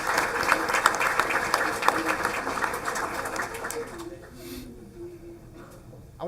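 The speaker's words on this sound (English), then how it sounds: "So I think that's worth a round of applause to our Farmersville kids." Audience at a school board meeting breaking into applause, a dense burst of clapping for about four seconds that fades out into quiet room noise.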